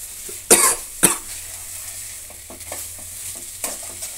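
Tomato rice with coriander leaves sizzles in a pan on a medium flame. A spoon stirs it close by, with two sharp scrapes followed by softer intermittent stirring and a gentle frying hiss.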